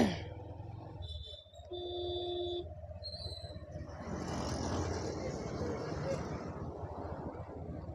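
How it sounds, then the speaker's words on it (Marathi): An auto rickshaw approaches along a road beside runners in a 3 km forest guard recruitment time trial, its engine noise swelling into a steady broad rumble after a few sustained tones, with voices nearby. "गाडी आली. रिक्षा आली. रिक्षा आली."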